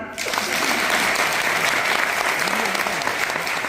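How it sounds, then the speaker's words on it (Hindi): An audience at a Hindi-language training session breaks into loud, sustained clapping that starts abruptly and stays dense and even, with faint voices underneath. "सुनना चाहोगे? बजाओ फिर ताली।"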